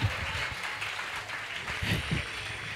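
A church congregation applauding, a continuous patter of clapping hands filling the room at moderate level, with a few voices calling out underneath.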